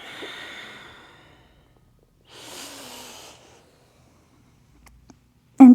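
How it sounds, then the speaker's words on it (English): Two soft breaths during a workout breathing exercise, an inhale followed after a pause by a slow airy exhale, close and quiet, with a short sharp noise at the very end. "and exhale."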